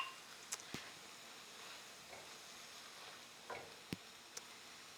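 Soy curls for cactus fajitas sear untouched in a pan, a faint steady sizzle with a few sharp ticks and light clicks scattered over several seconds, quiet and without talk.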